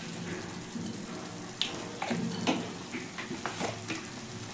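Masala with turmeric, salt, coriander and cumin powder frying in a pan, heard as a soft continuous sizzle broken by a few light scrapes and taps from stirring.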